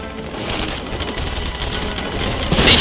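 Gunfire in the video game Saboteur, a loud, dense fusillade of rapid shots rattling continuously throughout, with no speech.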